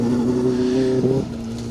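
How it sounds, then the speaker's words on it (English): Rear-wheel drive Ford Fiesta rally car on a forest stage, its engine holding a steady, fairly loud tone before easing off as it passes, no voices. "There's the rear-wheel drive Fiesta."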